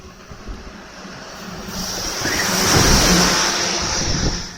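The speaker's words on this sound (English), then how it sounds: "Garbage truck. That's a garbage truck." A garbage truck passes outdoors on a bitterly cold, windy day, its broad engine rumble swelling toward the middle and easing off, mixed with steady wind buffeting the microphone.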